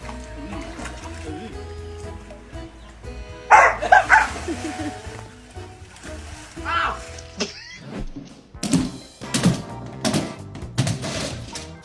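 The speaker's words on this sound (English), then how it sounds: "bark at your dog. Woof!" A pit bull barks in short bursts, a few sharp woofs spread across the stretch, mixed with people talking and other household noise.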